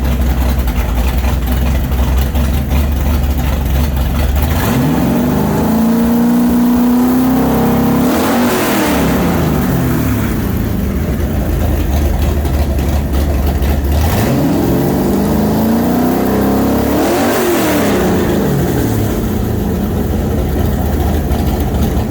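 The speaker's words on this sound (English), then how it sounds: "I'll fire it up again." A carbureted 427 Ford V8 with a roller cam, going into a 1965 Cobra, rumbles loudly at a lumpy idle and is revved hard twice, each time sweeping up and dropping back to idle.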